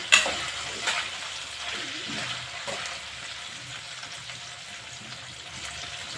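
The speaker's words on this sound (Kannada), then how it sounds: "ಈರುಳ್ಳಿನ ಇವಾಗ ಹಾಕ್ತಾ ನೋಡಿ ಸ್ವಲ್ಪ ಫ್ರೈ ಆದಮೇಲೆ ಫ್ರೈ ಮಾಡ್ತಾಯಿದ್ದಾನೆ ಇವಾಗ" Chopped onions sizzle steadily in a hot pan for pasta, a continuous low-level frying hiss with a brief sharper burst at the start as they go in, no voices.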